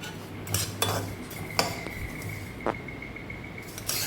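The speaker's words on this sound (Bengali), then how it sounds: "তিলটাকে প্রথম হালকা করে ভেজে নেব" Sesame seeds are dry-roasted in a pan while a spatula stirs them, giving quiet, intermittent scrapes and metallic clinks against a low background hum.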